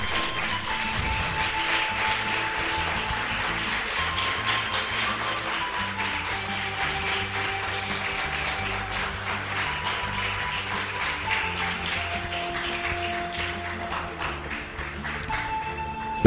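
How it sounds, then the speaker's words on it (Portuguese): A Portuguese-speaking church congregation applauds joyfully for Jesus Christ, a long, steady wash of many hands clapping at even loudness, with musical tones sounding underneath. "Agora vamos dar uma linda salva de palmas ao Senhor Jesus Cristo com alegria"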